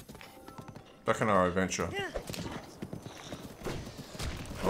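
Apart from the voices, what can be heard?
horse hooves clip-clopping in video game Breath of the Wild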